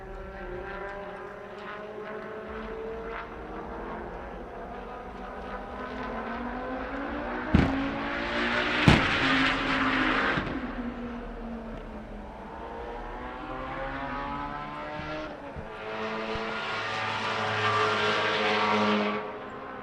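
A drift race car engine howls through a hot lap at a night drift battle, rising and falling in loud revving sweeps with a couple of sharp bangs mid-run.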